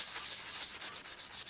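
Fine sandpaper rubs a heavily rusted nickel-plated part in quick, steady back-and-forth strokes, close up and fairly soft, with no voices.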